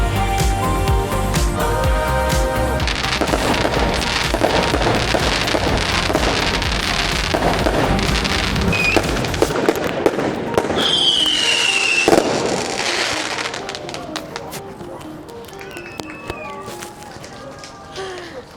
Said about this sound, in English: the bride and groom just came out and they put off fireworks.